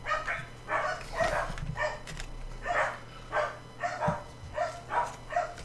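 Several dogs bark in a loose series of yips and bow-wows around a room where a football card collection is being opened, fairly close but moderate in level, with low background hum.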